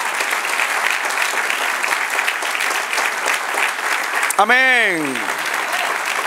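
A church congregation applauds steadily in a dense wash of clapping, then a voice says a short word over it near the end.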